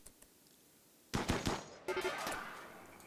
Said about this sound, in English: Then shoot that turret.